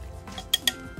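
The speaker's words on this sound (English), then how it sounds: "Now I mix all of them fine together and marinate here for about 20 minutes." Beef marinade being mixed in a bowl for Vietnamese sautéed beef noodles: two quick, light clinks of a utensil against the bowl over a quiet background, with no talking.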